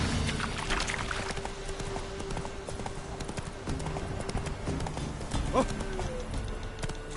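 The horse Roach gallops in The Witcher 3, a fast, steady drumming of hooves close and loud throughout, with a brief spoken exclamation over it.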